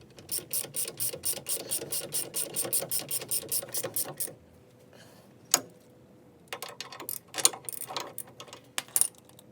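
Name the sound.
ratchet wrench turning on Dodge Challenger wheel studs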